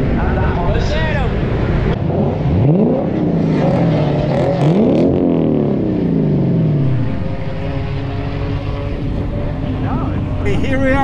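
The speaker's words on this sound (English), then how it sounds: "Here we are at Sebring with a Lexus parade. And they're revving." Lexus cars on an enthusiast parade lap at Sebring International Raceway, engines revving with rising and falling pitch sweeps over a continuous loud motor drone, with a commentator talking over it.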